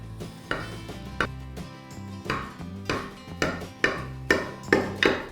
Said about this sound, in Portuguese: Eu vou cortar aqui uma fatia.